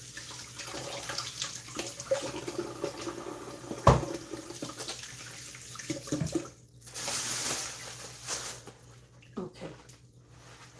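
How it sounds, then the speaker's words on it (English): Hands are washed under a running kitchen tap, a steady hiss of water splashing into a sink with shifting spatter as the hands move, rising louder for a few seconds midway and then tapering off. "But let me just wash my hands one more time."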